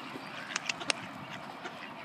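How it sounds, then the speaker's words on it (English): Ducks quack in a few short, close bursts over a quiet outdoor background, with no talk during the calls. "These ducks think they're getting fed."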